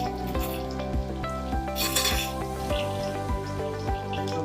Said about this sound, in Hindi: हमारा तेल हो चुका है गर्म तो इसमें डालेंगे जिंजर और गार्लिक का पेस्ट